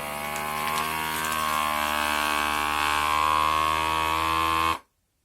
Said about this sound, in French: Et on va pouvoir verrouiller et lancer le sous-vide.